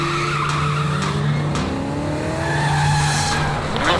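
Tires squeal loudly as a black Toyota skids at speed in a racing video game, a sustained close screech with sweeping engine tones and a siren-like wail running underneath.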